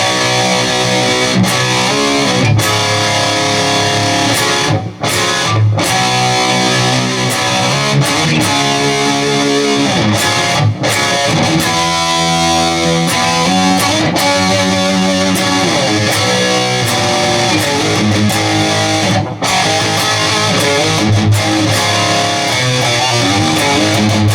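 A heavily distorted electric guitar plays a continuous, loud riff with sustained gritty chords and occasional brief breaks.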